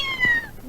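A person imitates a cat's meow, producing a short, tonal, cat-like cry that rises and falls within under a second, close and clear.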